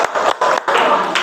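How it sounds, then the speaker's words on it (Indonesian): A classroom of students claps hands together in a short loud burst, broken into a few quick clustered bursts with brief gaps, close and lively, no talk over it. "Nah, tepuk tangan semuanya."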